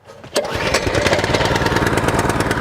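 A gas engine on a log splitter catches on the first pull of the recoil starter, a brief pull rasp giving way to a loud, steady, close running drone that continues to the end.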